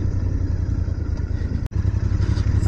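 Motorcycles ride along a road toward a hillside spot, a steady mid-pitched engine drone with light rattling and a momentary dropout partway through.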